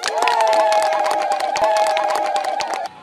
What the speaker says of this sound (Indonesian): Mpigeni makofi mengi sana Mheshimiwa Rais Dr. Samia Suluhu Hassan